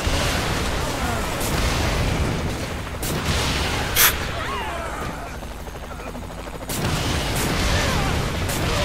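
Gunfire and explosions from Saints Row The Third fill a chaotic shootout, with a steady roar of shots, a sharp boom near the middle and a renewed burst of fire toward the end, loud and dense throughout.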